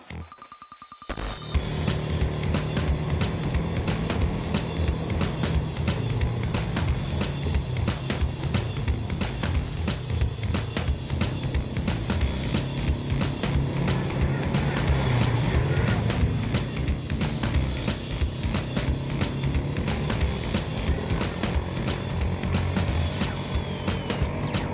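Engine of a 2017 CF Moto off-road vehicle driving steadily, a continuous loud drone with rising and falling revs and wind noise, after a brief quiet start.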